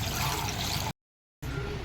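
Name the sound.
water being poured into a cooker for chickpea curry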